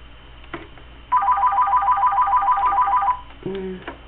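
A telephone rings nearby in a quiet room with a rapid, warbling electronic trill lasting about two seconds. Faint clicks come before it, and a brief tone follows.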